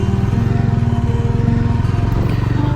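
A motorcycle engine runs loudly and steadily throughout on a hill road at Kuttikkanam, Kerala, its rapid, even putter rumbling close by as the bike rides along.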